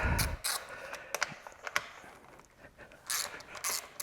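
Ratchet wrench loosening the front axle pinch bolts on a dirt bike, close and loud, with quick bursts of clicking and metallic turning separated by short pauses.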